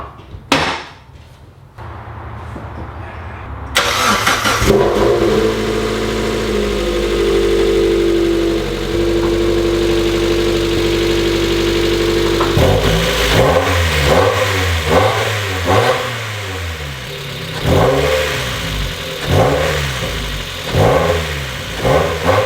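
Modified ricer car engine running loudly and close, a steady idle-like drone giving way to repeated rising and falling revs in the second half, no talking.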